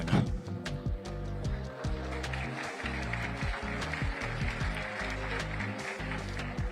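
Sustained audience applause fills a foundation dinner hall during a political speech, a dense, steady clatter of many hands lasting throughout without a break.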